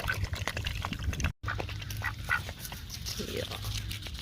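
Ducks being fed, quacking and chattering up close amid wet dabbling sounds, with a person talking to them throughout.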